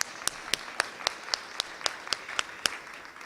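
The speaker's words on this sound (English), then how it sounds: "Let's give them another round of applause." Applause rises from an audience at a human trafficking forum, with evenly spaced sharp claps standing out over a softer wash of hands, moderately loud and steady throughout.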